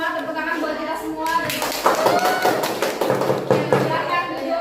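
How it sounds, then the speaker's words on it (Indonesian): A group of teachers and children claps in scattered, uneven applause at a school workshop session while children and adults talk and call out over it. "Tepuk tangan buat kita semua."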